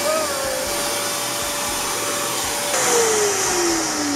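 A Rug Doctor carpet cleaner runs close by with a loud, steady motor whine and airy roar, its pitch shifting partway through as the machine changes load.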